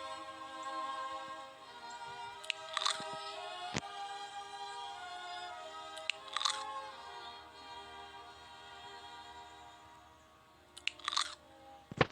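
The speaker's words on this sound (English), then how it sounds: "All I can eat here is just damn seeds." A bird character in a video game chews seeds, making three short crunchy bursts of bites spaced several seconds apart over a steady game soundtrack, close and moderately loud.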